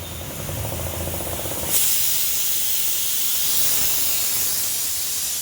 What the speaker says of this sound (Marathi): शिट्टी वाजेल कुकरची